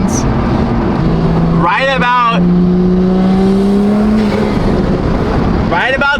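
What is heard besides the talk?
Toyota Supra engine revving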